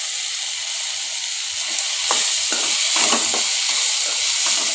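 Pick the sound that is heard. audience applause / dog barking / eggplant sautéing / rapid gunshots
eggplant sautéing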